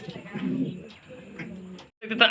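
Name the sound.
fancy Mundi pigeons cooing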